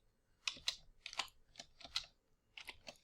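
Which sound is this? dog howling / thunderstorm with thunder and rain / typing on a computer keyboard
typing on a computer keyboard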